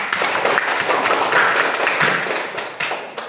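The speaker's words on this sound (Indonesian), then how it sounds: "Tepuk tangan untuk kita semua" Pupils in a classroom clap together during a lesson, a fairly close, uneven burst of hand claps with individual slaps standing out, tapering slightly toward the end.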